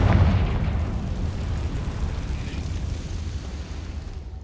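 A Confringo fire spell from Hogwarts Legacy detonates loudly at the start, a deep booming blast that rolls into a long rumbling decay fading over several seconds.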